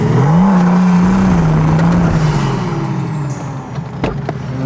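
BMW E39 530d diesel doing its first burnout, with a loud steady engine drone and tire roar that holds high and then slowly eases off, close up with no talk.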